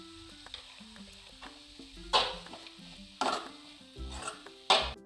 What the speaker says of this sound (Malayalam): ചെറുതായി അരിഞ്ഞ ഉള്ളി ഇട്ട് കൊടുക്കാം. മുഴുവനായും ഇട്ട് കൊടുത്ത് നന്നായി വഴറ്റുക.